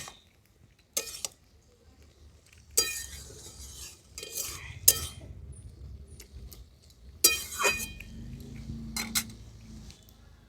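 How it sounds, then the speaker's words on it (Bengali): A spoon stirs sambar in a pot in a rustic village kitchen, giving scattered scraping clinks against the metal in short bursts with quiet gaps between them, fairly faint and with no talk. "কিছুক্ষণ পরে চাপাটা খুলে নিচ্ছি নেড়ে নিচ্ছি একবার ভালো করে"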